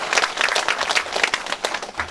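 Audience applause at a local community event in a neighborhood hall, a steady burst of clapping from a seated crowd lasting a couple of seconds, fairly close and dense.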